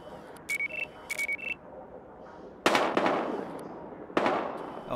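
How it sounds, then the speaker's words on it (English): Gunfire in the video game Battlefield Hardline: two loud sharp bursts ring out after a pair of short beeping tones, each shot decaying quickly against a faint background. "We've got gunshots."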